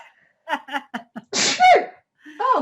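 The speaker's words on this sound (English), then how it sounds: "Oh, I'm going to sneeze." A woman sneezes once, loud and close, a few short breathy gasps building up before the burst, then a brief voiced sigh afterwards.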